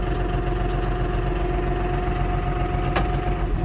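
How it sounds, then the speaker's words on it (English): A snow plowing vehicle's engine runs steadily with a constant mid-low hum and a faint tonal whine, a brief click near the end, heard close without speech. "Let me shift into a higher gear here"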